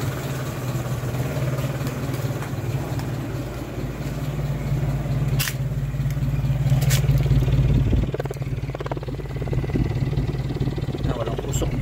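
A Toyota 3A-U car engine idles steadily and close by, its low, even rumble running on throughout with light mechanical clatter and a few brief ticks on top.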